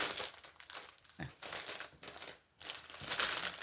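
Packaging crinkling and rustling during an unboxing of cross-stitch canvases, close and irregular crackles with brief pauses, and no talking over it.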